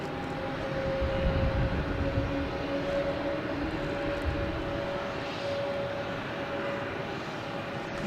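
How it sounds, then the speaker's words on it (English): Alaska Airlines Boeing 737 MAX 9 jet at Boston Logan Airport at night, a distant, sustained engine drone with steady whining tones over a low rumble that swells slightly early on and then holds. "So we have Alaskan Airlines heading to San Francisco. A Boeing 737 MAX 9."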